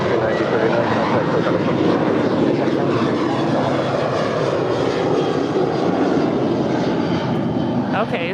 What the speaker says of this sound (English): this is Sun Country 9039 going to Kansas City